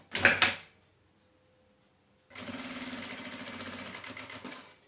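A sewing machine stitches fabric scraps into a dish towel. A brief clatter comes first, then a pause, then a steady rapid run of stitching that lasts about two and a half seconds, close and alone.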